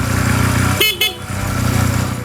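Two short honks from the horn of a 2005 Honda Rebel 250 (CMX250) motorcycle, sounding over a steady idling engine rumble.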